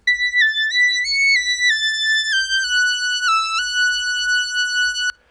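A high Moog synthesizer plays a smooth, whistle-like lead melody of stepping sustained notes over a faint low beat, ending abruptly.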